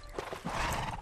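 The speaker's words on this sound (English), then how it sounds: "What up, horse? Let's get you up." A horse in the LEGO Worlds video game neighs and whinnies, with clip-clop hoof sounds throughout this brief, fairly loud, steady burst and no talking over it.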